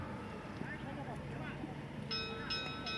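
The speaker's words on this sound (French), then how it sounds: "la cloche sonne, 30 secondes de jeu" A bell rings at a polo match at the Open de France semi-final, clear repeated metallic tones in the last second over crowd noise and a commentator talking throughout.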